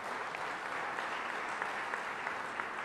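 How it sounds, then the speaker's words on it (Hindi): An audience claps to welcome a guest at a government meeting in Madhya Pradesh: steady, fairly distant applause with many overlapping hands, continuous for the whole stretch with no speech over it. "अशोक ध्यानचंद जी का भी ताली बजा के स्वागत कीजिए।"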